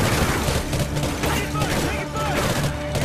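A grenade detonating in the shooter Call of Duty: Ghosts amid a dense, crackling burst of explosive and gunfire noise, loud and close, with no speech over it.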